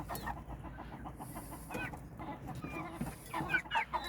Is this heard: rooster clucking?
yes